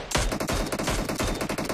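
Rapid automatic gunfire in a BGMI battle, a dense burst of shots rattling continuously for under two seconds, loud and close with no talk over it.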